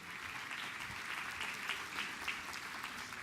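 An audience at an international education seminar applauds steadily, a soft, even wash of many hands clapping heard from a distance without any voices.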